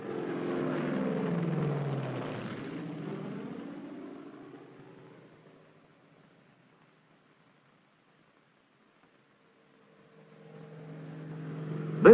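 A military cargo plane in an airdrop formation roars overhead, its loud propeller drone peaking early, then fading to near silence before the next aircraft's engines swell back in at the end.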